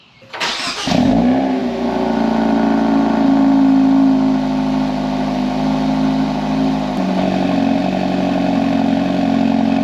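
Hyundai Elantra N cold start: a quick starter crank catches into a loud, high idle revving up, then the engine holds a steady elevated drone before settling slightly lower, recorded close.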